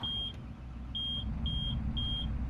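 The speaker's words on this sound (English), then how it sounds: "beeps when you turn it on" Four evenly spaced high electronic beeps ring out over a steady low engine drone, with no voices.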